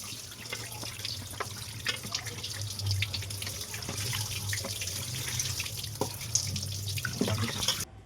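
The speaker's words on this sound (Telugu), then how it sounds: "ఫస్ట్ మంచిగా చికెన్ని కడుక్కోవాలి గైస్" Running tap water splashing over chicken in a sink, steady flow with irregular splashes and drips, close by and without talk.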